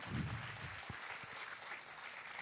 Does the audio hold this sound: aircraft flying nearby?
no